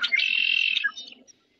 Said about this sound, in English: This is a blackbird.